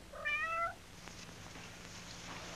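A cat lets out a single short, clear meow near the start, then only a quiet room hum remains.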